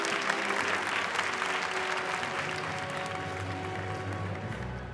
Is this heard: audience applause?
yes